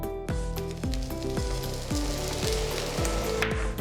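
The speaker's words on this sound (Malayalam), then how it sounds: "നമ്മുടെ പഴമെല്ലാം നമ്മുടെ തേങ്ങയുമായി കടന്ന് നന്നായി ഒന്ന് ഫ്രൈ ആയി വരണം." Ripe banana pieces with grated coconut fry in ghee in a pan, giving a steady close sizzle with falling tones from background music and a few stirring scrapes.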